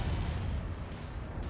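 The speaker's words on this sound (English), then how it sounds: "Another big explosion there." A large explosion in the mech combat game MechWarrior 5: Mercenaries, a loud sustained roar of deep rumbling blast that fills the whole moment without a break, with no speech over it.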